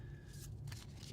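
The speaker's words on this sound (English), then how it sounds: "We're shuffling up." A deck of cards shuffled quickly during a tabletop game of Dragons of Etchinstone, a brief soft riffling flutter heard up close and fairly quiet.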